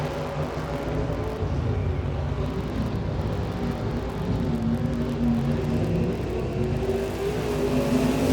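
IMCA Modified race cars at a winter-series dirt track race in Peoria, Arizona, produce a constant roar of engines from a distance, a steady blended drone with rising and falling revs and no speech.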